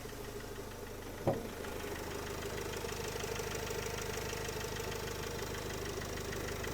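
A cold 2010 Renault Trafic with the 2.0 diesel (115 hp) idling, a steady, even, low engine hum and clatter heard from a moderate distance, with one brief knock near the start and no voices.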